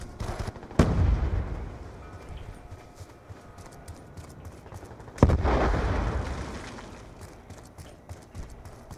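Two sharp blasts from a grenade explosion and gunfire in Call of Duty Black Ops 2 land about four seconds apart, each followed by a rumbling decay, over faint background game noise.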